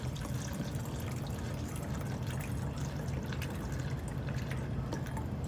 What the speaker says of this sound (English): next you're going to want to take your water and just pour it in there